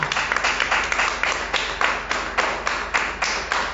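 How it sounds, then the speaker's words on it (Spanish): A church congregation claps in rhythm, sharp regular beats roughly every third of a second riding over a bed of scattered clapping, moderately loud and close. "Aplaudir, vamos."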